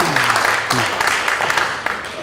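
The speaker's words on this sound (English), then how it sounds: "A round of applause for our students for showing us what they are capable of" Audience applause at a Stratford Public Schools board of education meeting, a steady dense wash of clapping with a voice speaking over part of it.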